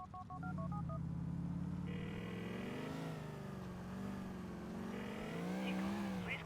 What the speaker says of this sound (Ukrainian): Дзвінок.